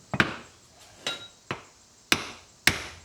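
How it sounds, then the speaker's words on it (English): A hammer strikes the end of a hydraulic cylinder during a rebuild, five or six sharp metallic knocks at irregular intervals, close and fairly loud, with quiet gaps between hits. "take a hammer and we hit on this, it'll come off"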